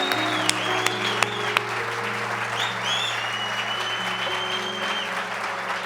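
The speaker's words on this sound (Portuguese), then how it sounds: "Uma salva de palmas para ele." Audience applause at a church gathering welcoming first-time visitors, a steady dense clapping that fills the whole stretch, close and fairly loud, with a few sharper individual claps standing out.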